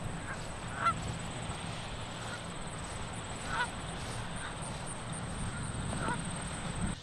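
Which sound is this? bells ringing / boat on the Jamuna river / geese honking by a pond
geese honking by a pond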